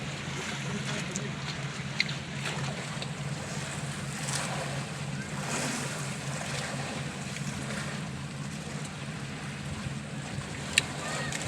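Steady low engine drone of a boat moving over the sea, with constant wind and wave wash, a couple of faint knocks along the way.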